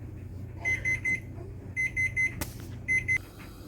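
An oven timer beeps in three short bursts of rapid electronic tones, with a sharp knock between the second and third bursts, over a steady low kitchen hum.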